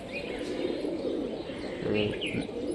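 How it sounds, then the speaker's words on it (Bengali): A Mushki pigeon with green eye ring and feathered feet coos in low, soft rolling calls at a local pigeon market in Rajshahi, close by amid a murmur of people and faint chirps in the background. "মুশকি কবুতর এটা"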